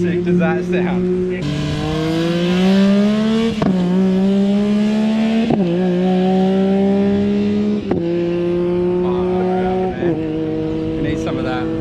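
A buggy's engine sits bouncing on the rev limiter, a loud steady buzzing drone that dips briefly every couple of seconds and climbs straight back, close by throughout.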